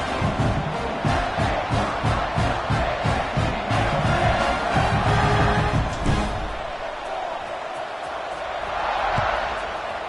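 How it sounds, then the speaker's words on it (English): A college football stadium crowd at a Maryland game roars loudly and continuously, swelling and easing slightly as the noise carries across the stands. "Do you think this crowd's going to get loud when their defense comes on the field?"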